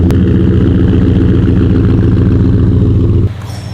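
A truck engine runs at a steady, loud, close low rumble, then drops off sharply near the end, leaving a quieter hum.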